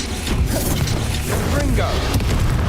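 A spell blast from Hogwarts Legacy gameplay booms and crashes up close, layered with game effects and music-like tones, and a voice speaks over it.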